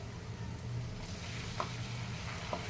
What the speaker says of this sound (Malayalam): തൊലി കളഞ്ഞ് ചെത്തിയെടുത്ത് കഷ്ണങ്ങളാക്കി ഉപ്പും മഞ്ഞളും ഇട്ട് വെച്ച നാരങ്ങ അതിലേക്ക് ഇട്ട് കൊടുക്കുകയാണ്.